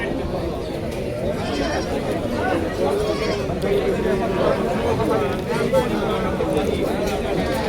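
Goats bleat repeatedly over a constant din of crowd chatter at a busy, noisy goat market in Deohata, Tangail.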